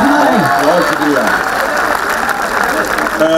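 Audience applause at a mushaira poetry gathering, a dense steady clatter of clapping filling the hall throughout, with a voice speaking over it near the start.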